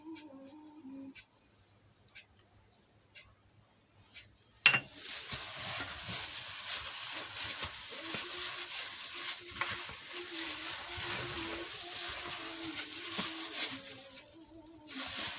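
A spoon stirs and scrapes through date-filled maamoul dough after two spoons of oil are poured in, starting with a few quiet taps, then a sudden burst of continuous wet, hissing mixing noise that carries on steadily and close by.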